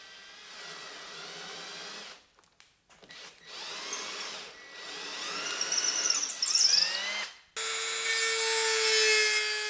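Purpleheart wood knife handle blanks being drilled through for a sloyd or hook knife, giving a sustained grinding, rubbing tool noise in long loud bursts broken by short pauses, with a higher whine near the end.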